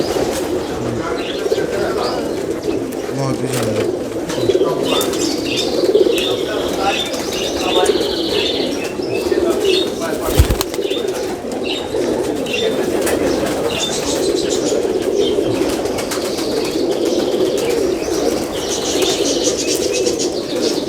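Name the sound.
Teddy pigeons cooing and flapping wings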